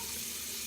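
Hot water runs from a tap in a steady, close, hissing stream with no pauses, heard alone for a brief moment.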